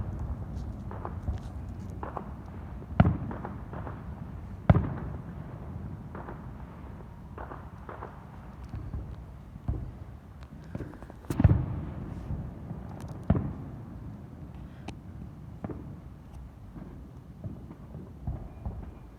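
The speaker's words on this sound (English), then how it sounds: "the huge firework that crossed right in the tri-state area" Fireworks explode at a distance as a handful of sharp, scattered bangs punctuate a steady low rumble, with the strongest cracks spaced several seconds apart.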